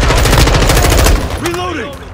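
Rapid automatic gunfire in Call of Duty Modern Warfare Warzone, loud and close in quick bursts, followed by a brief whooshing sweep as the shots stop.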